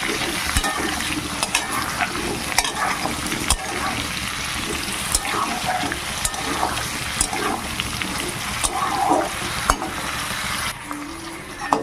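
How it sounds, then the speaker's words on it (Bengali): Pumpkin pieces fry in a pan with potato and pointed gourd for a vegetable curry, a steady close sizzle broken by repeated scraping stirs and utensil knocks throughout, with no talk. "কুমড়োগুলো খুব সুন্দর করে ভাজা ভাজা করে নেবো"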